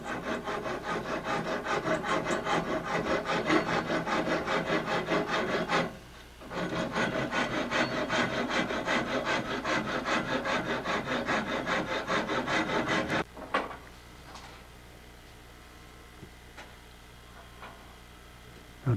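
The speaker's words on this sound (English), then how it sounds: "what he's doing now is rasping down where the ear sticks out that he glued on" Continuous wooden rasping on the glued-on ear of an Asiatic bow, a dense, even scraping rhythm close by that pauses briefly, resumes, then stops, leaving faint knocks and handling sounds.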